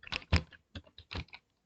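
SQL code typed on a computer keyboard, a short close run of about half a dozen soft key taps in uneven rhythm, quiet and alone.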